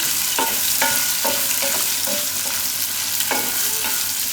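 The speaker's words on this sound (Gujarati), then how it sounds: "હવે આપણે આ કેરી નાખી દેવું" Mango pieces sizzle in hot oil seasoned with asafoetida and kalonji for a Gujarati keri methi shaak, a steady close frying hiss broken by several sharp spoon-against-pan scrapes and knocks spaced through it, with no talking.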